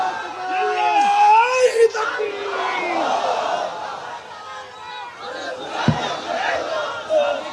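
A large crowd at an open-air Islamic sermon gathering in Benapole, Bangladesh, roars back in unison after a call of takbir: a loud, swelling chant of many voices that trails into scattered shouting and murmuring.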